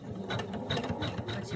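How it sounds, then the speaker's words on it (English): An embroidery machine running placement stitches for an owl's beak on fabric over stabilizer, a steady close mechanical whir with fast rhythmic needle stitching pulsing throughout. "you can then go ahead and run the placement stitches for your beak"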